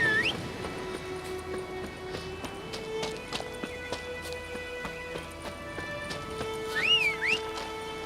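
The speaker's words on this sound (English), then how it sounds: "Horse." A horse whinnies twice in The Witcher 3, shrill rising squeals near the start and again near the end, over faint game sounds and occasional clip-clop.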